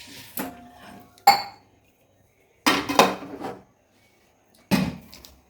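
A pot of mawa rabdi, a thick sweetened milk reduction, is lifted off a gas stove, giving a few separate metallic clanks and clinks of cookware with quiet gaps between them.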